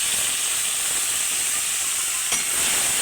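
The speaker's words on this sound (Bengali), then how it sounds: "এবার পটল আলুর তেলের মধ্যে দিয়ে দিলাম তেজপাতা, কাঁচা লঙ্কা, টমেটো কুচি" Bay leaf, green chilli and chopped tomato dropped into hot oil left from frying potatoes and pointed gourd: a loud, steady, bright hissing sizzle close by, with one faint clink near the end and no speech.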